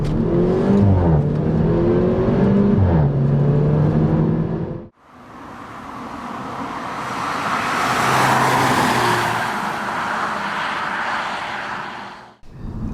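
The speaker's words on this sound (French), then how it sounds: "on a le droit à un échappement travaillé, ce qui veut dire que la sonorité est assez agréable, elle est rauque" Sport car engine with a worked, raspy tuned exhaust revving loudly and continuously, rising and falling in pitch with a brief cut between pulls, no talking.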